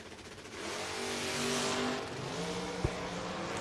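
A dragster at a bracket drag racing event roars off the line with a loud, rising engine note that holds steady for a few seconds before a sharp crack near the end.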